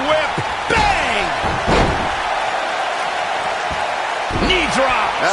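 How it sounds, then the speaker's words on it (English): Heavy thuds and slams of wrestlers hitting the mat, including a knee drop, in WWE 2K19, several sharp impacts spaced irregularly under an excited commentator's voice. "Knee drop. That was nasty."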